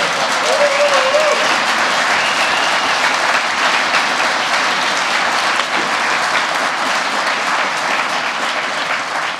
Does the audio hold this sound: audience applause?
yes